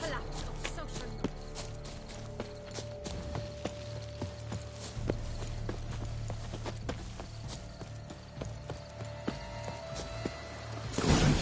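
A horse's hooves in The Witcher game beat a steady, rhythmic clip-clop as it moves along, moderately close, with other game sounds and faint voices underneath.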